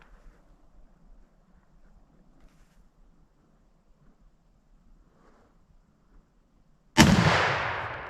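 A single sharp rifle shot fired at a deer during a hunt outdoors, loud and close. It bursts out after about seven seconds of quiet wind and faint rustling and then decays in a long rolling echo.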